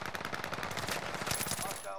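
Rapid automatic gunfire in the Warzone video game rattles off in a fast, continuous burst of sharp shots, close and loud, filling the whole moment.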